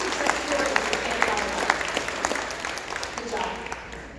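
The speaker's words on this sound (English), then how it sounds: "So please give these guys a round of applause." A room full of people at a staff meeting claps steadily, a moderate round of applause with scattered louder claps and some voices underneath.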